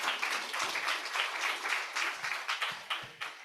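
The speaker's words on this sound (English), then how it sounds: "let me welcome our panel members, please, with an applause perhaps" Applause from a forum audience welcoming high-level panel members at a climate transparency event, a dense patter of many hands clapping, moderately loud and steady, thinning slightly toward the end.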